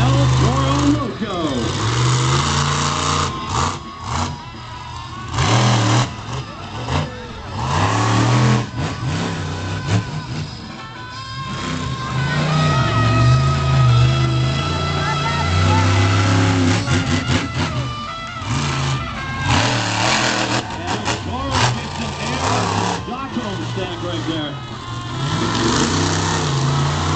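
El Toro Loco monster truck engine revs hard and surges during a Saturday night Monster Jam run in Quincy, Illinois, in 2012, loud and continuous with throttle swells. An announcer talks over it throughout.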